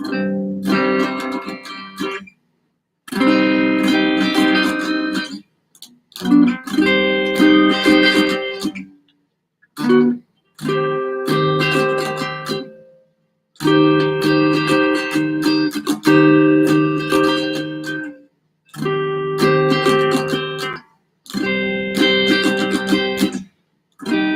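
Guitar rhythm chords on the bottom four strings, strummed in bursts separated by short pauses, a full, bright rhythmic pattern repeated several times with no voices.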